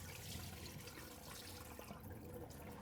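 Cloudy rice-starch rinse water is dumped out of a pot, a brief rushing splash and gurgle close by with no talking.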